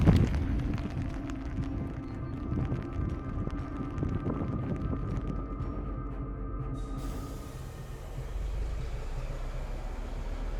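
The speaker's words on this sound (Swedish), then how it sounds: "Det blåser så in i helvete." Strong, cold wind buffets the microphone with heavy low rumbling gusts at a museum railway, continuous and loud, rising again near the end.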